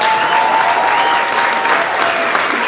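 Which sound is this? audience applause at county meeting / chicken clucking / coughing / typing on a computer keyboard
audience applause at county meeting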